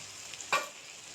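Dried lotia fish (loitta shutki) drops into a pan of softened frying tomatoes, making one short close burst of sizzle over a faint background hiss.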